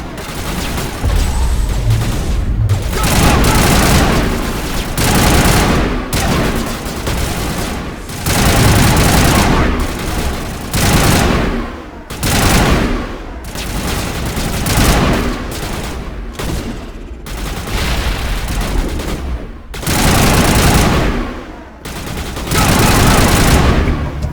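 Sustained Mass Effect firefight with dense volleys of gunfire and heavy booms, coming in long loud bursts separated by short gaps and continuing throughout.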